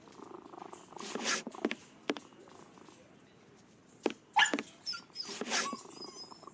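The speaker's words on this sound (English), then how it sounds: "Aha! This must be the cat." A cat purring in a Sherlock Holmes video game, soft rough rumbling bursts in a quiet room, with a few brief louder noises and no talk.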